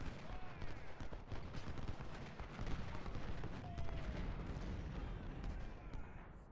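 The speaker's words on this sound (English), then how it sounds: "Wright just took a pretty brutal volley there from Webb." Musket volleys crackle in the Ultimate General: Civil War battle at Devil's Den, Gettysburg, with dense overlapping rifle fire and distant artillery thumps rolling continuously as a steady, moderately distant din.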